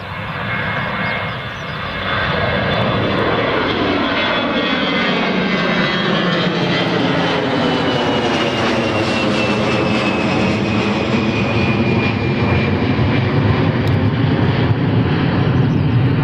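A jet airliner climbs away from Newcastle Airport's runway 25 at night, its engine roar loud and continuous, with a steady broadband rush and a falling whine as thrust is reduced during the departure.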